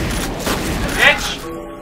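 Shotgun blasts from the video game F.E.A.R. hit concrete, producing a short burst of gunfire under a player's voice.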